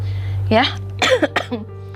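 A few short coughs in quick succession, close up, with a faint steady hum underneath.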